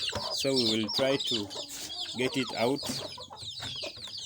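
Week-old poultry chicks clucking and cheeping inside a cage, busy bird calls running steadily throughout while someone talks over them at close range.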